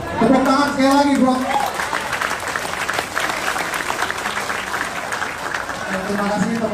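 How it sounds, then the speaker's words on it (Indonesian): Audience applause at a political campaign meeting in Pontianak, with sustained clapping filling the clip from start to end, fairly loud and close, while a voice speaks over it near the beginning and the end. "Tepuk tangan sekali lagi, bro."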